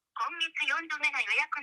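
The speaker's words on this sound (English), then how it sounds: "Here is the phone call they received." An automated phone call placing a restaurant booking in Japanese plays through a telephone line, with a synthetic voice speaking steadily and close in thin, band-limited tone.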